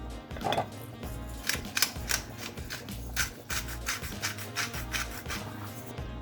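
Spaghetti being stirred in a cooking pot, with soft scraping and rubbing strokes repeating in an uneven rhythm close by, with no talking.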